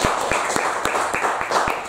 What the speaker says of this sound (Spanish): Ahí aplaudo.